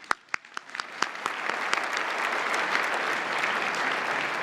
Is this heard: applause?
yes